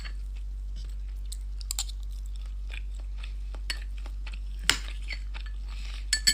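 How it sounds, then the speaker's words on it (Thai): Someone chews a mouthful of rice close up, with soft irregular wet clicks and a few sharper crunchy bites over a constant low electrical hum. "เดี๋ยวเรามานับกันดูนะว่าพี่เคี้ยวถึงไหม"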